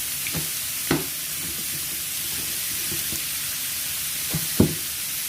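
Young pumpkin and chicken stir-fry in a pan with fermented fish sauce before any water goes in. A steady, close hiss of frying runs throughout, with a few soft scraping stirs of the spatula.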